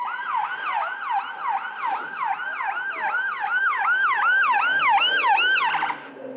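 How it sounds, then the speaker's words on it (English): A police or ambulance siren wails in a fast, repeating up-and-down pattern as it passes. It is loud and steady throughout, then cuts off near the end. "hello police, or ambulance."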